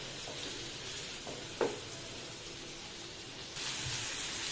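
Onions sautéing in a pan for onion bhaji, a soft steady sizzle with a few stirring scrapes; the hiss brightens and grows louder near the end.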